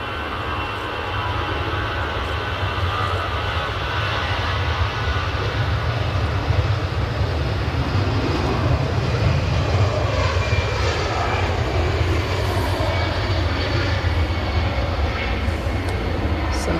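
An Aer Lingus airliner departs for Dublin from Manchester Airport, a sustained low engine rumble and broad roar holding steady at moderate distance, with faint voices now and then.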